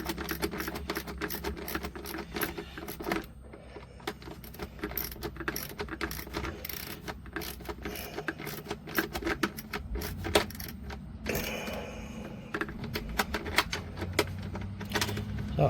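A hand ratchet tightens a Weathertech no-drill rear mudflap bolt on a Ford Transit, giving a steady run of close, rapid clicking strokes. A few brief pauses break the rhythm, and no one speaks.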